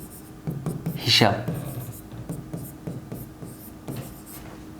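Pen or chalk strokes on a board during an accounting lesson, with a few scratchy writing bursts mixed in with a teacher talking nearby.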